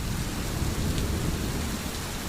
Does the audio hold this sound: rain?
yes